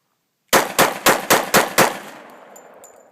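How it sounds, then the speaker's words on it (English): Springfield XDs .45 ACP pistol fired in rapid succession, six loud close shots about a quarter second apart, with a fading echo after the last round. "I'm going to do a rapid fire."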